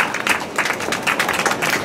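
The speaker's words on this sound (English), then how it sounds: "Round of applause, everyone, for Naoya Akagawa." A crowd claps for a competitor at a latte art championship in Tokyo, with brisk, dense applause running throughout at moderate loudness.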